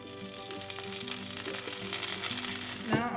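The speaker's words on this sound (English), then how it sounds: "Now I'm going to add a tablespoon of olive oil into the skillet that I just emptied." Olive oil, about a tablespoon, sizzles and crackles steadily in a hot skillet, fairly close and continuous for a few seconds, with clinking and stirring sounds over it and a brief brighter burst near the end.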